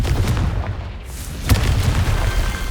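A Confringo fire spell detonates in Hogwarts Legacy, a deep booming blast that cuts sharply through a continuous rumbling backdrop of battle noise, followed by lingering low crackle.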